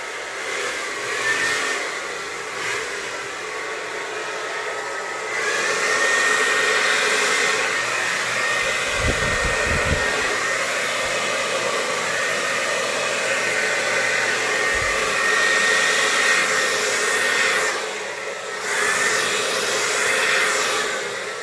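Hair dryer blowing steadily across an acrylic Dutch pour on a canvas, a loud continuous whooshing roar lasting the whole stretch with slight shifts in tone as it moves.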